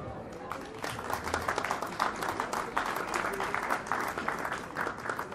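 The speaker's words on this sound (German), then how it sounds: "vielleicht einen kleinen bescheidenen Applaus" An audience applauds at a folk music performance, dense, lively clapping that rises quickly and stays loud and sustained throughout, with some crowd noise under it.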